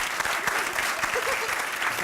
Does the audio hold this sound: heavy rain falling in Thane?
no